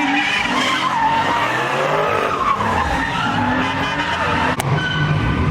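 A street-racing Cadillac CTS-V loses control and its tires squeal in a loud, continuous skid that holds for several seconds, close by and with no speech over it.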